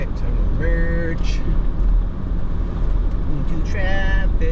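Houston highway traffic flows past as a car merges, giving a steady roadway rumble and tire roar. A couple of brief horn-like tonal blasts rise above the constant, close wash of vehicle noise.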